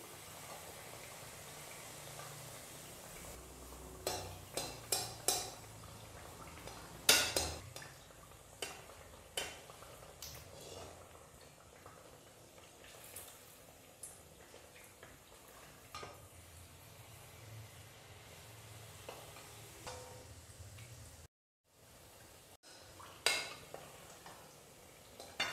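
Morning breakfast snacks fry in hot oil in a pan, a low continuous sizzle broken by scattered clinks and scrapes of a ladle stirring and turning them.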